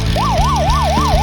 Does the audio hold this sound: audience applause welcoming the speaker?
no